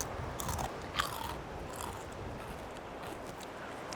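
Someone bites into and chews crisp fried kingfish skin crackling, producing close, continuous crunching with a few sharper bites near the start.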